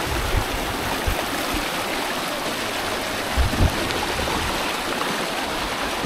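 Hot spring water flows steadily over the white travertine terraces at Pamukkale in Turkey, making a constant close hiss with a few soft splashes and no voices.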